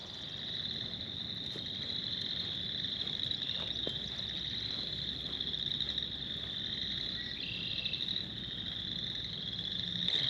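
A spring wetland chorus of frogs, a continuous high trilling drone with croaks and faint insect chirps layered throughout, fairly distant and steady.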